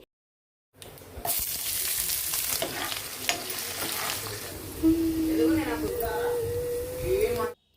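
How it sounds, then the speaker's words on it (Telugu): Capsicum frying in oil with tempering seeds in a pan, a close continuous sizzle with light stirring scrapes, and a voice speaking over it in the second half. "ఇక్కడేమో క్యాప్సికమ్ ఫ్రై చేస్తున్నా"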